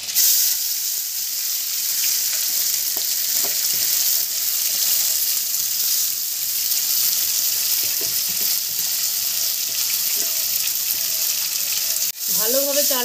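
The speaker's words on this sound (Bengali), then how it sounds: "ভালোভাবে চালটাকে ভেজে নেবেন।" Soaked rice fries with whole spices (cardamom, cinnamon, cloves, bay leaf) in a pan for basanti polao, making a loud, continuous close sizzle with occasional stirring scrapes and a brief clatter near the end.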